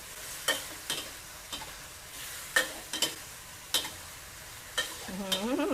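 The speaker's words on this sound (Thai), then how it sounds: "ใช้ไฟแรงสุด ๆเลยค่ะ ผัด ให้กุ้งสุกเลยนะ" Shrimp stir-fried in a pan over the highest heat for black pepper shrimp, with a steady sizzle punctuated by sharp scraping and clanking stirs at an irregular rhythm, close and fairly loud.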